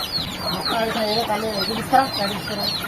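Chickens and small chicks cluck repeatedly close by during heavy rain, a busy run of short calls with someone talking over them.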